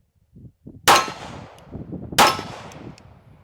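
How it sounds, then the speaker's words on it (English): Two sharp metallic clangs of bullets striking small 3-inch by 3-inch steel targets at a 9mm pistol range, spaced over a second apart, each ringing briefly, with quieter thumps and range noise between. "Let's go ahead and see if we can hit these 3-inch by 3-inch steels just off to the right."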